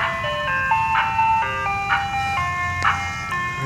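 An ice cream truck on a residential street on a Saturday afternoon plays its bright, looping chime melody, the tune steady and fairly loud as the vehicle passes close by, with no talk over it.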